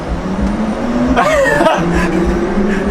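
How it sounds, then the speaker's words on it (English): Mercedes AVTR concept car pulling forward, a steady smooth drive hum with a brief rising electric whine, close and continuous, no talking. "Let's drive it. So first I'm gonna pull forward,"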